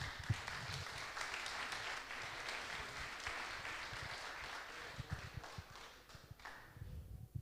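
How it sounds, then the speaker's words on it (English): An audience at a startup pitch event applauds a jury member, a steady patter of clapping from many hands filling the room for several seconds before thinning out. "You can clap again for Viktor Manev"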